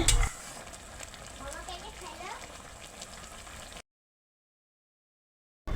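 Raw green mango pickle, sweet, sour and spicy, cooking in a pan with a steady low sizzle and soft stirring strokes for about three seconds, then silence before a brief loud burst at the end.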